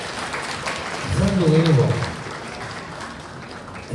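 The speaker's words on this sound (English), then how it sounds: "Give him a round of applause." An audience at a roast gives a round of applause, a steady crackling clatter that runs beneath someone speaking briefly in the foreground.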